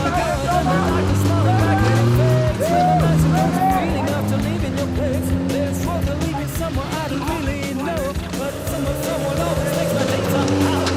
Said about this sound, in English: the Suzuki wheelbase should be nice and neat through here. Coming up onto this rock to climb out now.